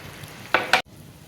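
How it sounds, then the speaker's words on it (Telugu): Chicken frying in a pan while being stirred, a soft continuous sizzle broken by two brief scraping stir strokes, then a sudden cut to a quieter sizzle. "చికెన్ని ఈ విధంగా కలుపుకుంటూ వేయించేసుకోవాలి"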